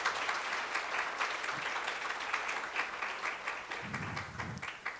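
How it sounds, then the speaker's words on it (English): Applause from an audience thanking panelists at a perinatal mental health event, quite faint and distant, with individual claps flickering through a steady patter and a brief low murmur near the end. "Let's give these ladies a round of applause."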